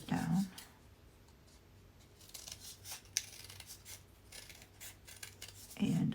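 Scissors snip through a quilt template with soft, close cutting and rubbing sounds, quiet and intermittent, a few louder handling noises at the start and end.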